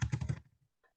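Rapid bursts of computer keyboard typing while entering a font name in a spreadsheet program, several quick close clicks for about half a second, then quiet with a faint later tap.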